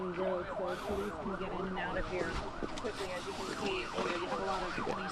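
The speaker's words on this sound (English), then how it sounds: "You'll hear sirens still moving down here right now." Several emergency sirens wail together in Pittsburgh during an active shooter response near a synagogue, with overlapping rising and falling tones, loud and continuous, with traffic rumble beneath.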